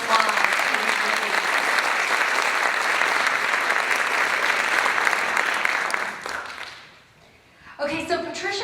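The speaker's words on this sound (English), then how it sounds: "Let's get a big round of applause for this lady." A pageant audience at the Mrs. Oregon 2017 event gives a big round of applause for the 2016 titleholder, loud sustained clapping and cheering that fades out near the end before a voice starts talking.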